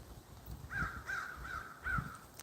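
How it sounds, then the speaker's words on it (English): Several crows caw in a short rhythmic series of four harsh calls, somewhat distant and faint over quiet outdoor background noise. "Do you hear the birds?"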